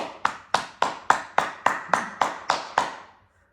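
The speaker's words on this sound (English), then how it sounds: "tap, clap with your hands now" Hand clapping during a yoga exercise, about ten crisp, evenly spaced claps from one person, close and clear, stopping cleanly at the end.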